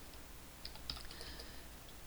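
Sparse, faint keystrokes on a computer keyboard while data is entered in QuickBooks Online accounting software, with a few distinct clicks over quiet room tone.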